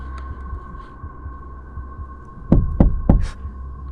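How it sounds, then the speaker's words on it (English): Three loud knocks on a truck in quick succession, sharp and close, over a steady low hum. "you can hear the man knocking"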